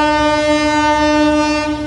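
A train passes close by near a riverside, its loud sustained horn blaring steadily throughout with the rumble of the cars beneath.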